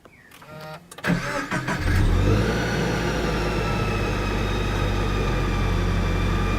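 A supercharged Subaru BRZ/Toyota 86 engine cranks and catches after a second of clicking, then settles into a loud, steady idle with a whining supercharger hum on top.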